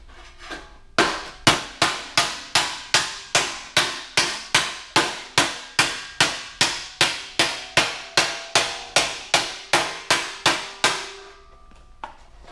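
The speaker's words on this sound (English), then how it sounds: "So I can probably hammer it a little bit more." Sheet metal is struck repeatedly with a hammer to smooth distortion left by a bead roller, making about twenty-five sharp, ringing metallic blows in a steady, even rhythm, loud and close, with one last light tap after a pause.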